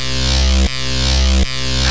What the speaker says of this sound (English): Then we have a Jacob's Ladder sound for also when you're shocked